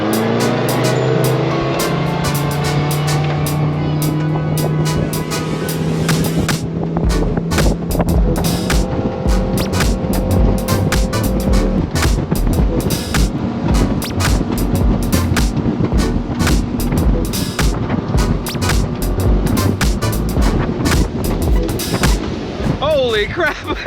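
Suzuki DF200A outboard pushing a pontoon boat fitted with welded lifting strakes at about 44 mph: a loud, steady engine drone with water and wind rush throughout, rising in pitch early on, with occasional voices.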